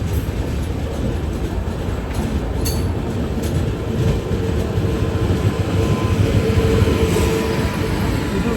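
The Uday Express, an AC double-decker train on the Coimbatore–Bangalore route, rolls through Kuppam station in Andhra Pradesh with a loud, continuous rumble of wheels and cars and a thin metallic squeal throughout.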